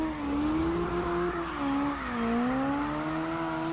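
A car drifting in CarX Drift Racing, its engine droning steadily while the tires squeal in a long, wavering sideways slide that rises and dips in pitch, loud and close throughout.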